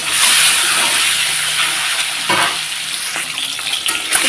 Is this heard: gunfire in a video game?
no